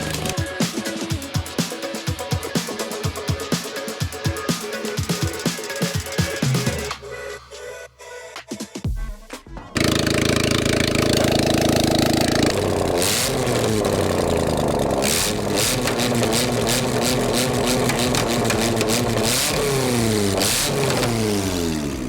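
Car engine on a Fast and Furious build car, running at first, then after a brief dip breaking into loud, sustained revving with rising and falling pitch sweeps, close and steady with no talk.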